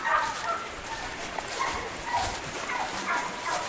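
A Jack Russell Terrier gives a rapid run of yips, whimpers and short barks, fairly close and steady in level, with faint outdoor noise behind.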